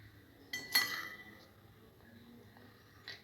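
A spoon mixes sugar into chotpoti in a bowl, giving a sharp metallic clink followed by quieter scraping and one more faint clink near the end, close and soft with no speech.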